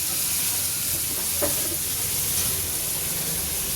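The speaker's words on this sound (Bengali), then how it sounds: "সিমটা দিয়ে দিয়েছি, সিমও ভেজে নিয়েছি একটু" Flat beans frying in a pan make a continuous, even sizzle with a brief stir or clink partway through, close and steady with no talking.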